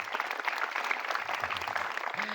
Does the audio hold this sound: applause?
yes